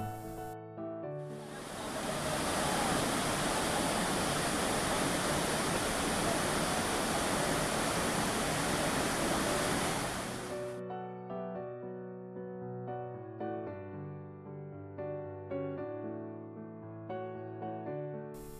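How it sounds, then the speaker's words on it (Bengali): Sita Falls on the Radhu river near Ranchi, a dense roaring rush of falling water heard for about ten seconds before cutting off to quieter background sound. "জল নেমে যাচ্ছে ঝর্ণা দিয়ে।"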